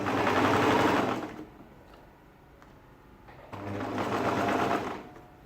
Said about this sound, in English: So still sewing at 1/2 inch.